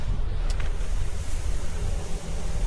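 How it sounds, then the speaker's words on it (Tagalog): Steady outdoor wind roars and rumbles continuously into the microphone, loud and broadband with no pauses. "umiihip hangin na"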